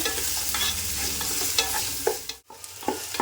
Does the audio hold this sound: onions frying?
yes